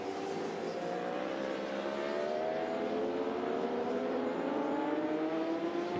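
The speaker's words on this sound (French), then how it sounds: "un tour en caméra embarquée du circuit Bugatti avec Étienne Masson" Endurance racing motorcycle at the Bugatti circuit during a 24-hour race, heard on board as a loud, continuous high engine whine rising steadily in pitch as it accelerates, with no talking.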